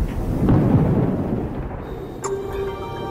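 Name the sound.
thunder reverberating around an airport at night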